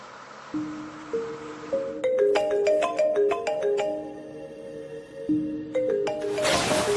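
A melodic phone tune repeats its notes over and over during an outgoing call, then a brief burst of noise cuts in at the end. No one speaks.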